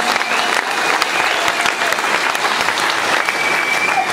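A concert audience in Bath, UK, claps warmly and continuously for a bluegrass band in 2009. The applause is close and full, with scattered sharper claps standing out.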